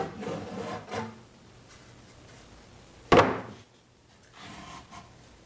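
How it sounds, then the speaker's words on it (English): A top cover is lifted off a QT Thunder II ozone machine after its screws are removed: a single short, sharp scraping clunk stands out from a quiet room, with faint handling rustles before and after. "Now we'll go ahead and we'll lift the top off."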